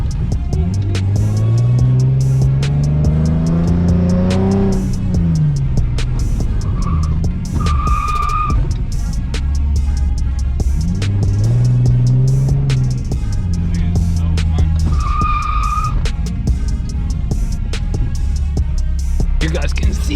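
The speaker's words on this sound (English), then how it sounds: "I'm just testing my hydro brake." A Nissan 370Z fitted with a Voodoo13 hydraulic handbrake drifts, its engine droning and rising in pitch while tires skid and squeal in long, loud stretches close by.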